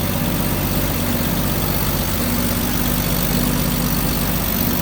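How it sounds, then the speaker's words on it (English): A 1946 Packard Clipper's 245-cubic-inch inline-six L-head engine, with a recently rebuilt carburetor, idles smoothly and steadily, a loud, close, even rumble with no talking. "Inline 6 with 245 cubic inches on it. Pretty smooth running."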